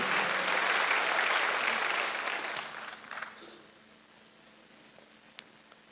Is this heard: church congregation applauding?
yes